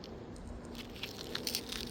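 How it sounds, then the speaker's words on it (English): Burnt, melted crunchy bone is bitten and chewed, faint irregular crunches and crackles building toward the end against a quiet background, with no talk. "Oh yeah, that's bone. That's crunchy bone."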